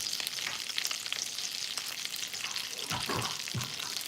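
Seafood sizzles steadily in a hot skillet, a constant loud crackling hiss with a couple of brief stirring scrapes near the end.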